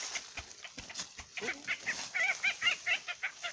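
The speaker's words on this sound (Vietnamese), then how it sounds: "Không biết là con chim gì thì khá là đẹp. Kêu như là con gà." A bird caught in a trap gives repeated clucking, chicken-like calls, a rapid series of short notes that grow louder and denser toward the end, close by with no talk over them.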